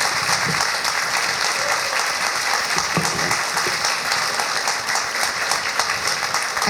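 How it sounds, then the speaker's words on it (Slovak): School Christmas audience giving a keyboard performer loud, continuous applause, dense clapping filling the room without pause. "ja vás poprosím veľký motivačný potlesk pre Adama"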